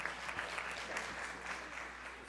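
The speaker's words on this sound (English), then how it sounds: "Give them a round of applause, please." Applause at a Fresno city council meeting for a Preservation Month proclamation, a dense steady clapping from a roomful of people, fairly distant and even throughout.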